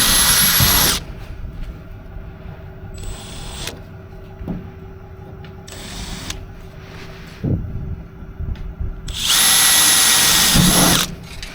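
A power drill whirs in short bursts while drilling wire holes for a truck roof rack, with a long high-pitched run at the start and end and quieter workshop noises between.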